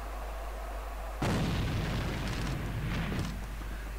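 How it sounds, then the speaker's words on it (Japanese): A thrown grenade explodes in a competitive multiplayer shooter match, a single loud blast bursting out of a low steady hum and rumbling for about two seconds before fading. "手榴弾投擲。"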